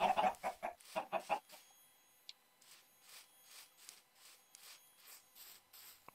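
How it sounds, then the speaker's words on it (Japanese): Chickens cluck in Minecraft, a short cluster of close, busy clucks at first, then a string of fainter, evenly spaced soft pecks and shuffles with no talking. "鳥さんがいっぱいいますね。"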